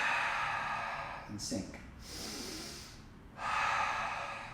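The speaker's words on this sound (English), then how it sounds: "I'm going to take a deep breath, exhale" Deep inhale and long exhale during a handstand shoulder mobility stretch, with breathy bursts in the middle under a steady background hiss, followed by a spoken voice.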